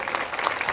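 Crowd applauding at a peace march in Rosario, December 2021, outdoors; a short, steady burst of dense clapping at moderate level, with no clear voices over it.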